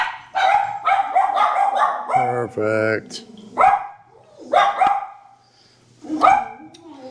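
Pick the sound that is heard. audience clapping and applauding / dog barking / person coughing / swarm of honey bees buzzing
dog barking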